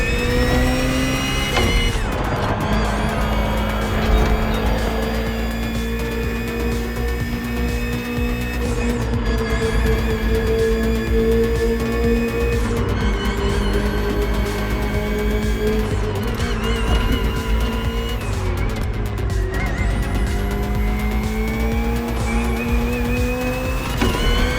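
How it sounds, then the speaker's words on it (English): BMW M Hybrid V8 endurance race car from 2023 in The Crew Motorfest video game, its engine screaming steadily and loudly through rising gears with repeated shifts, heard alone. "The BMW M Hybrid V8. What a beast."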